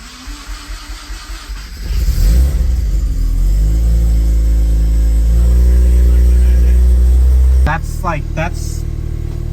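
A rotary-swapped Subaru BRZ engine cranks a few times, catches with a loud roar, then holds a high, steady rev before dropping back to a rough idle.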